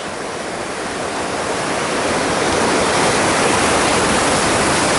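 Ocean waves of about one and a half metres break on a shore while fishing, a loud continuous roaring wash of surf that swells slightly toward the end.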